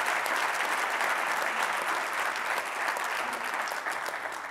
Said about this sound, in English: Please give a round of applause to the Reverend Dr. Kevin W. Cosby.